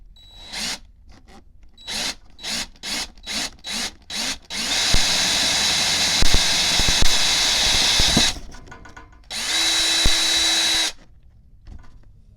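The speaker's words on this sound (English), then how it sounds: "Now we have that hole drilled out to 3/16." Power drill boring a 3/16 inch hole in metal on a converted Bentley petrol insert: several short on-off bursts, then a long steady whine that stops and restarts for a final sustained run, close and alone.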